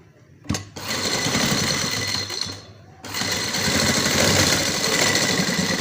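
Sewing machine stitching along a trouser cuff: a loud, close, steady mechanical whir that starts abruptly, dips briefly around the middle, then resumes and runs continuously to the end, with no talking.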